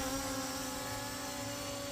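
A LMRC LM19 Pro V-22 Osprey RC model's motors run at a steady, loud whine and buzz, tested outdoors in wind, with continuous rotor noise and a wind rumble throughout.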